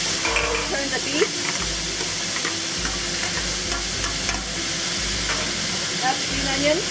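Loud, continuous sizzling of beef frying in a wok with sesame oil and oyster sauce, with metallic scraping and tossing sounds as it is stirred, up close.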